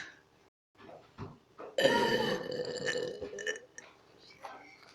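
A single long, loud burp rolls out close to the mic after a few softer throaty sounds, trailing off into quieter gulps.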